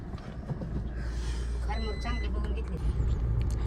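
A vehicle's engine runs with a low steady rumble after being started. Voices talk over it.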